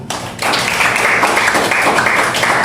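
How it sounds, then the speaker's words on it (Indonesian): A group in a school class presentation at SMAN 93 Jakarta bursts into applause, with close, dense clapping starting abruptly after a short pause and holding steady. "tepuk tangan untuk kita semua"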